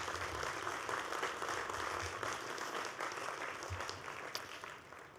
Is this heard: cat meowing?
no